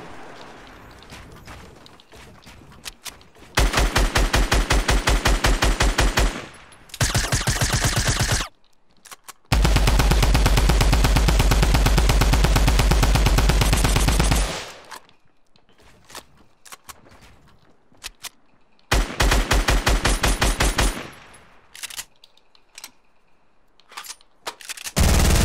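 Video game guns firing in long, loud sustained automatic bursts separated by short pauses and scattered single shots and mechanical clicks, close and dominant.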